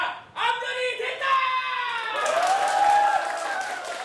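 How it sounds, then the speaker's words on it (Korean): Theater audience at a Korean musical or play shouting out in unison, their voices rising loudly, then breaking into lively clapping and cheering that carries on to the end. "관객분들이 알아서 외쳐주시고 박수 쳐주시고 소리를 질러주게 만들다 보니까"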